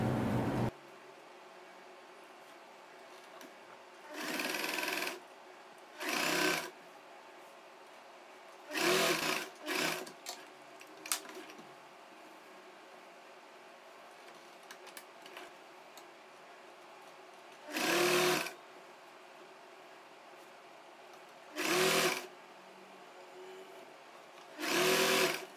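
A sewing machine stitches a churidar sleeve seam in short, whirring bursts, about seven quick runs of rapid needle clatter with quiet pauses between them, heard close in a quiet room.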